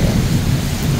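Thunder rumbles loudly and continuously through heavy rain during a storm in Mecca, a deep rolling roar filling the whole moment with no voices.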